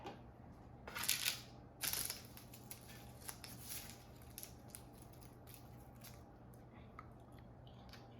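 Crisp crunching bites into seasoned roasted romaine lettuce hearts, with two louder crunch bursts near the start and softer chewing after, close and fairly quiet over a steady low background hum.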